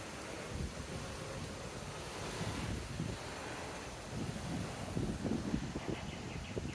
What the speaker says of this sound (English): It's funny how the wind just kicks up.